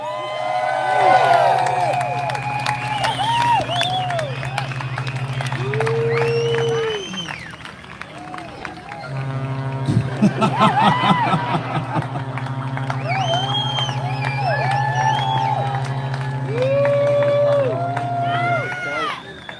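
A crowd at an outdoor rally in Canberra cheers and whoops loudly in two big swells, with shouts and whistles rising over a steady droning horn in the background.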